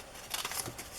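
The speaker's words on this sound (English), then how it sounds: "using my fabric scissors to cut paper." Fabric scissors cutting through paper: a short burst of several crisp snipping and rustling strokes, close and fairly quiet, with no voices.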